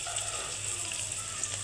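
Onion, garlic, green chili and turmeric fry in a pan, giving a steady, soft, close sizzle and crackle that runs evenly throughout with no talking.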